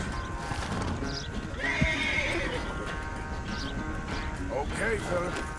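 A horse in Red Dead Redemption 2 lets out a clear whinny midway while its hooves clip-clop steadily on the ground, set against a soft game ambience with faint voices in the background.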